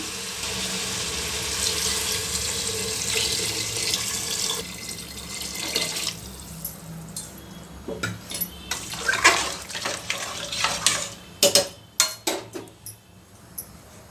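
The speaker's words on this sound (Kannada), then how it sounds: "ಒಂದು ಲೋಟ ಅಕ್ಕಿಗೆ ಒಂದೂವರೆ ಲೋಟ ಅಷ್ಟು ನೀರು ಸೇರಿಸ್ತೀನಿ" Water runs steadily into a pot of rice for several seconds, then stops, followed by a series of sharp clinks and knocks of metal utensils, while making mutton biryani.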